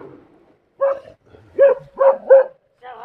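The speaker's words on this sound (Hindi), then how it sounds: "एकदम से कुत्ते भौंकने लग गए" Dogs barking at night on an open hillside where a shepherd keeps sheep, a series of sharp, fairly close barks in quick bursts, with a faint voice at the start.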